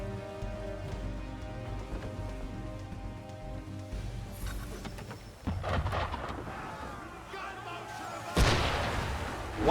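Ship cannons fire in Assassin's Creed III, with a couple of heavy booms that burst out over a steady orchestral music bed.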